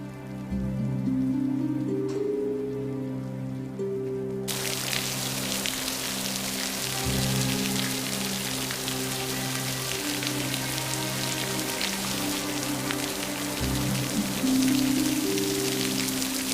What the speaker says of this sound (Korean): 빗소리가 하도 험해 쉬 잠을 이룰 수가 없군요.